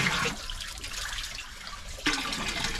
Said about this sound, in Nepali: पानीको मूल